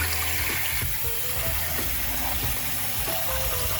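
Chicken wings being washed and drained, heard as running, splashing water with soft knocks and shuffling in a bowl, steady and close.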